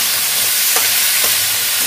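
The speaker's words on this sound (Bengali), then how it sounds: "দেখো, এঁচোড় কিন্তু ভাজা মোটামুটি হয়ে এসছে।" Young jackfruit fries in plenty of hot oil with salt and turmeric, giving a loud, steady close sizzle broken by two brief scraping stirs of the pan.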